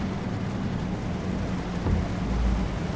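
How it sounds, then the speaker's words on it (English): Rain in the truck-driving game Euro Truck Simulator 2 forms a steady, dense wash of noise with a low rumble beneath, continuous and even with no voices. "It's a spectacular rain,"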